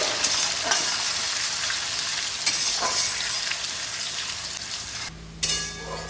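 Chopped onions with a spoonful of cumin seeds fry gently in hot oil, giving a steady close sizzle and hiss throughout with a few soft stirring scrapes and a brief dip near the end.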